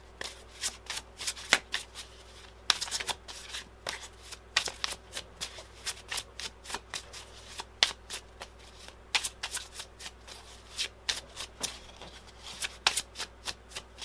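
A tarot deck is shuffled by hand in quick repeated bursts of crisp card riffles and slaps, close up and steady over several seconds, with no talking.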